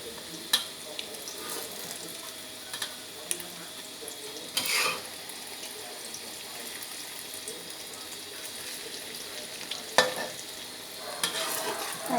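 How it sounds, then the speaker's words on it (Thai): An egg omelette fries in a hot pan, a faint steady sizzle running throughout with occasional clinks and scrapes of a utensil against the pan, quiet and close. "ต้องทอดให้สุกให้ร้อนมากๆ"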